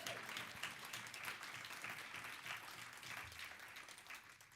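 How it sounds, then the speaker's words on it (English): Applause from a convention crowd at a national political gathering in Philadelphia, a steady dense patter of clapping held at a fairly even level throughout. "You could clap for that."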